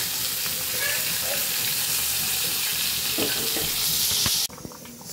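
Hilsa fish fries in a pan with a loud, dense crackling sizzle and a few stirring scrapes, cutting off abruptly near the end to a quieter hiss.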